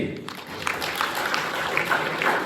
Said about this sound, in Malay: Sila berikan tepukan sekali lagi.